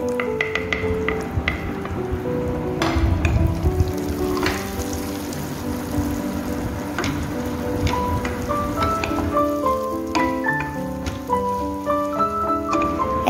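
Crushed dates and nuts stirred in a frying pan for dry fruit kheer, giving a soft continuous sizzle and scraping with light crackles, under steady background music.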